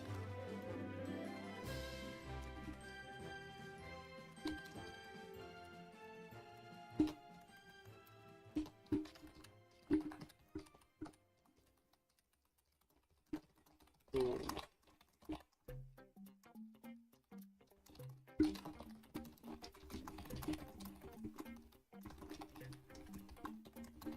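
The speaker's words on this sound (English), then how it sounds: "Sorry for keyboard noises. Keyboard ASMR." Computer keyboard keys clatter in quiet bursts while code is written for a compiler project, with uneven soft clicks and short pauses, and faint tonal background sounds underneath.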